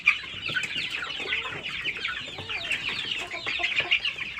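Ten local desi chickens, about 58 days old, cluck and chatter continuously up close, a busy overlapping flock sound with no talking.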